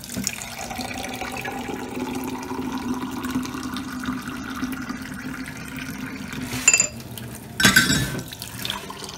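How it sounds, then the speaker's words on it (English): Water runs steadily into a container being filled for sterilizing with split tablets, a continuous gurgling pour with a rising pitch as it fills, followed near the end by a couple of sharp clinks. "now I'm going to fill it with water and leave it."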